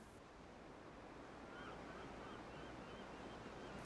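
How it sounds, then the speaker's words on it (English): Sea waves crashing and throwing foam straight upward, a steady close roar of surf with a wind-like hiss and no voices. "the foam splashes straight upwards with each wave"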